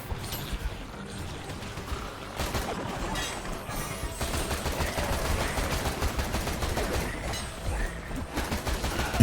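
Dense, continuous gunfire from a bullet-heaven FPS video game as hordes are mowed down, rapid overlapping shots with crashes and impacts forming a loud, unbroken barrage.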